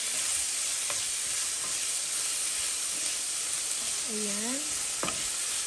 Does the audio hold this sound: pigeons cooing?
no